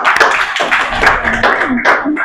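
A classroom of students in an English lesson applauding a classmate, a short, dense burst of many hands clapping close together, loud and steady for a couple of seconds.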